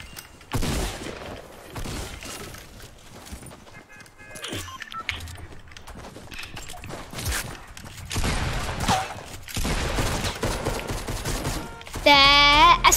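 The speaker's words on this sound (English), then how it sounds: "The SMG pump combo." Fortnite gunfire from an SMG and pump shotgun, with rapid bursts and sharp blasts scattered across the clip among game effects and some talk.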